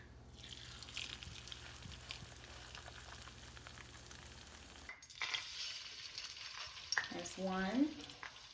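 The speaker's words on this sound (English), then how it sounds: "My latkes are frying." Steady crackling sizzle of latkes frying in hot oil, close up, with occasional pops and a brief stirring scrape near the end.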